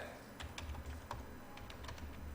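Computer keyboard keys are pressed while working in a spreadsheet, making quiet, scattered clicks at an irregular pace, faint and close, with no talk over them.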